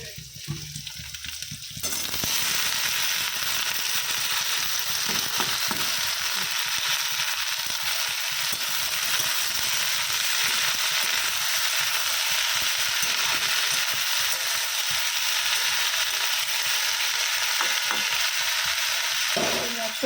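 Spices frying in melted ghee for a mocha (banana blossom) curry, a steady, close, dense sizzle that starts abruptly after a brief quiet moment and holds evenly throughout, with no talk.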